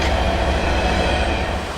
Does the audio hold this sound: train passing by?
yes